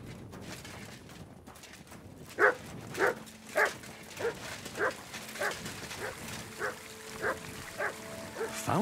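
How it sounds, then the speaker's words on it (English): A dog in the medieval game Kingdom Come: Deliverance II barks on command, a run of about a dozen evenly spaced, moderately loud barks over a low background murmur. "Sit and bark."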